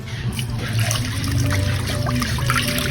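Water pours steadily into a cooking pot holding pig cheek, ginger, peppercorns and onion for Ilocano dinakdakan, a continuous nearby splashing trickle under faint kitchen background.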